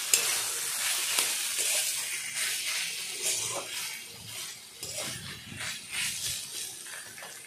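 A spoon stirs banana flower curry (mochar ghonto) in a hot pan after ground garam masala goes in. Scraping and clinking sit over a soft sizzle and hiss, close and fairly quiet, in an uneven rhythm.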